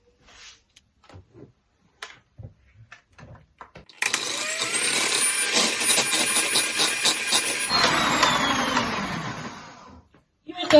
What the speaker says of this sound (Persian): باید با همزن بزنم سفیده رو تا حسابی پف کنه و حجیم بشه